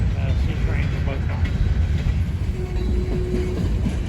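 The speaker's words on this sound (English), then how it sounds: "Here comes the end of the train. It's crossing under the Norfolk Southern Bridge." A train rumbles past beneath the Norfolk Southern bridge at Kenova, West Virginia, a steady loud roll with faint clatter and a brief high squeal.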